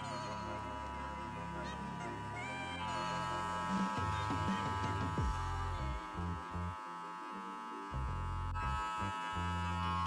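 Electric barber hair clippers run continuously during a low fade haircut, a steady buzzing hum with shifting tone as the blade lever changes position, heard up close alongside a talking voice.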